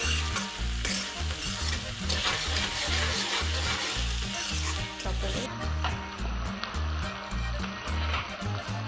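Daal frying over a low flame crackles in a dense, busy sizzle with repeated stirring strokes and scraping in the pan, close and continuous.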